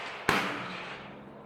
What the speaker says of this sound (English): Give you an idea about the recoil from such a small pistol.